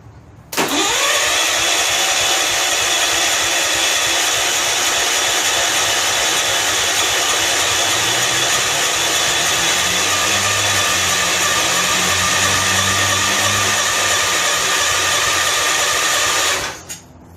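A barn-find John Deere 140 H1 garden tractor engine cold-starts after decades, catching almost at once into a loud, steady buzzing idle that runs evenly for about sixteen seconds before cutting off abruptly.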